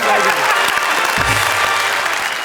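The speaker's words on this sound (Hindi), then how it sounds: "जोरदार तालियां शैलेश भाई के" Applause from the audience at a live comedy poetry (shayari) show, a dense, steady clatter of many hands clapping close by for the whole stretch, with a low thump partway through.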